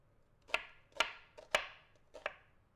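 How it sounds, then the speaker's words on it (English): A knife rough-chops vegetables on a cutting board for enchilada sauce, four crisp, evenly spaced chops ringing out close and clear in a quiet kitchen. "Tonight, we just need to rough chop it because it's going in the blender with all the rest of this stuff to go in the sauce."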